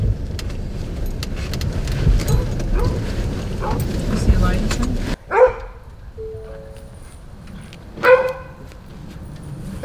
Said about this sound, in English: I see a dog